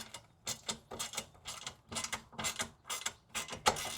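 A socket wrench ratchets on a car bolt in quick, evenly spaced bursts of clicking, about two per second, close and fairly faint with no talk over it.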